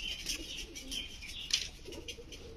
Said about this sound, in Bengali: কবুতর কিন্তু এটা আসা দিকে বাকিগুলো ডাকছে।